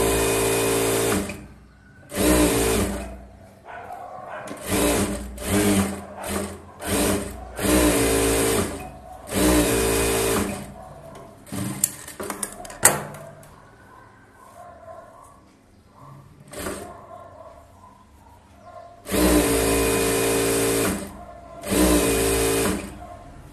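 A sewing machine stitching a princess-cut boat-neck blouse runs in repeated short bursts of rapid whirring, separated by brief pauses and one longer lull, close and clear.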